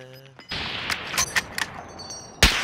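Gunfire in a Call of Duty Warzone match: a string of sharp, loud shots and bursts hits close and unevenly after a brief tonal game sound, with a last hard blast near the end and no talk over it.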